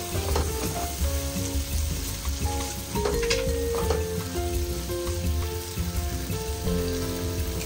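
Ginger and garlic paste sizzles and fries in a hot pan for a spicy dry Bombay duck dish, a loud, close, continuous crackling hiss with occasional stirring scrapes and no talking.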